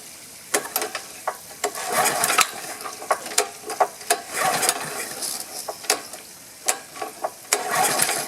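A pressure washer engine being pull-started with the fuel and choke on, giving repeated sharp rattling pulls and brief mechanical sputters in an uneven rhythm, close by, without catching into a steady run.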